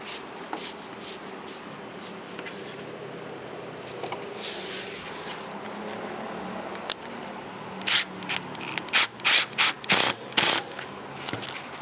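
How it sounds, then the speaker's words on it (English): Bolts are tightened on a gasket while fitting a new Proto-Vest dryer bag, with quiet scraping and handling at first, then a close run of sharp ratchet clicks near the end, no one speaking. "Get that bottom one tightened down."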